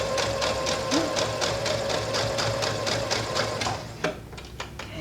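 A sewing machine bastes fringe onto fabric, running at a steady rapid stitching rhythm with a constant motor hum, then slowing and stopping with a few separate clicks near the end.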